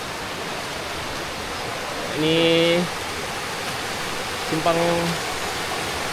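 Steady rush of a jungle river flowing beside a camp on a trek toward Gunung Ganang, an even, loud water hiss throughout, with brief voices speaking twice over it.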